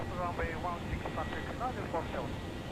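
Jet engines of a ToLiss A321 airliner in a flight simulator roar steadily through a takeoff roll from Mallorca, a continuous loud hum with tonal whine, while a voice talks over it.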